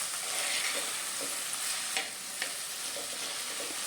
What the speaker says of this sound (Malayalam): അതിനുശേഷം നമുക്ക് നന്നായിട്ട് ആ എണ്ണയിൽ ഒന്ന് വഴറ്റി കൊടുക്കാം.